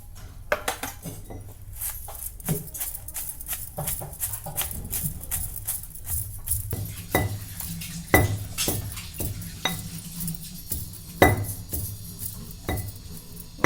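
Dry chutney powder ingredients are pounded and crushed in a bowl, giving repeated irregular knocks and clinks of metal and stone that carry on steadily at close range. No one speaks.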